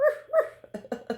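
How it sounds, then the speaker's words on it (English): A dog close by gives a short run of whimpering yips and quick barks, several sharp bursts in about a second, loud and alone. "doggy."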